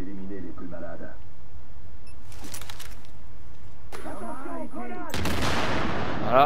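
Gunfire and grenade blasts from a PS4 session of the shooter game The Division, arriving in loud bursts with a sharp, broadband crash near the end, mixed with in-game voices and effects.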